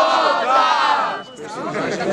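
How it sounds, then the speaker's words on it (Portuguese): Crowd at a student rap battle in Brazil cheering and shouting loudly, a dense roar of many voices that dips briefly midway then swells again. "Barulho pra quem gostou mais das rimas do Spike"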